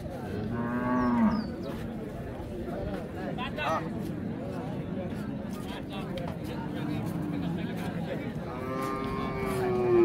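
Cattle low and moo repeatedly at a busy livestock market in Raniganj, Dinajpur, where Friesian cows with calves are sold, the calls rising over constant crowd chatter and people talking nearby.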